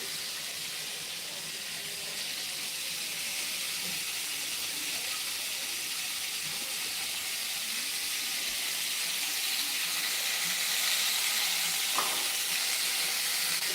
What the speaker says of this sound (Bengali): তো দেখো মিষ্টি কুমড়া ভাজা হচ্ছে